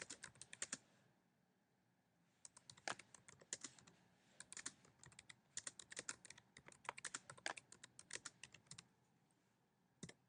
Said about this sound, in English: we could add text just by typing that in